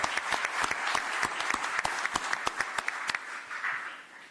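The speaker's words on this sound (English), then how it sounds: "give an applause." Audience applause at a Nordic quantum technology launch event in Denmark, a burst of distinct hand claps from a modest crowd, steady at first and thinning out toward the end.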